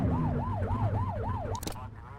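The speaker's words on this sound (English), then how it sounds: "Get on their tail and whip the siren." A police siren in the video game The Precinct wails, sweeping up and down in steady cycles, loud and close, then cuts off abruptly with a brief burst of noise.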